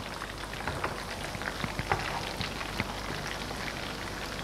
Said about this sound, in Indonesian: Kita goreng ikan asinnya nih ya